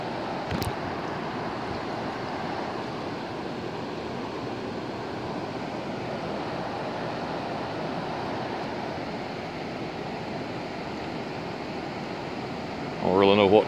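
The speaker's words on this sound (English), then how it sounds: "Got a pretty good little flow of water coming off the river today." River water pours steadily near the power plant at Lake Tugalo in Tallulah Gorge, making a constant broad rushing roar. A brief click comes near the start and a louder bump at the very end.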